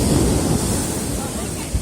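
Sea waves at Chandrabhaga beach, also called Golden Beach, as a steady, loud wash of surf with wind noise buffeting the microphone, continuous throughout.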